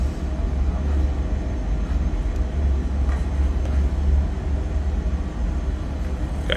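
An Embraer Phenom 100 jet rolls down the runway after landing in a flight simulator game, a steady low engine and rumble drone with faint clicks, continuous and fairly loud with no talk.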